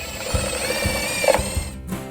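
A drill spins self-tapping screws into vinyl rail brackets, giving a short, close, whirring mechanical buzz with small uneven bursts that stops abruptly near the end.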